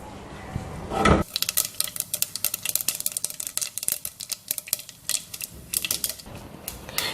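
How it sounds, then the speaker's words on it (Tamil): Mustard seeds crackle and spit in hot oil, a dense run of sharp little pops, close and steady, with no talking. "கடுகு நல்லா பொரியட்டும்."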